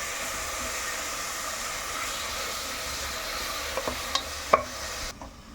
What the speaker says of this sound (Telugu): కంపల్సరీ వెల్లుల్లిపాయ వేసుకోవాలి పచ్చివాసన పోయేదాకా వేస్తాను